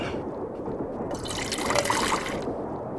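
Water is poured for someone to drink in a radio drama scene, a short splashing trickle lasting about a second between quieter room tone.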